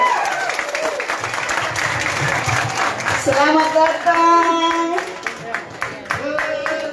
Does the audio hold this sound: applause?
yes